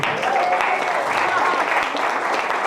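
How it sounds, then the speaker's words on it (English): A crowd at a stand-up comedy show applauds steadily, a dense wash of clapping with cheering voices mixed in, sustained throughout. "Give it up for our host, Joey Bolin"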